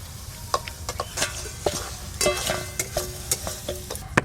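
Fish cooking in a pan is stirred with repeated scraping and clinking strokes over a soft frying sizzle, the strokes arriving in quick irregular bursts up close.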